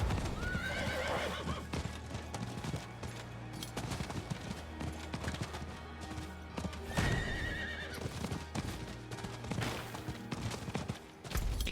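A horse in Diablo IV gallops with steady, rhythmic clip-clop hoofbeats, and two sharp whinnies ring out, one near the start and one about midway, over a dense game soundtrack and battle noise.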